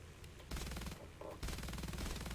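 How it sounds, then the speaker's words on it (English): Aircraft guns strafing ground targets in War Thunder in VR, heard as rapid machine-gun bursts: one short burst, a pause, then two longer sustained bursts. "I'll strafe a bit"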